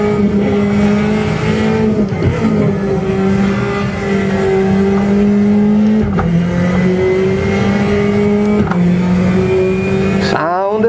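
A Mercedes C-Class DTM race car in the RaceRoom racing game at LakeView roars loudly and continuously, its engine note climbing and dropping with gear shifts, with a brief tire squeal near the end.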